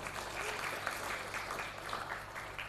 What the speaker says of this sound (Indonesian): Tepuk tangan juga untuk beliau.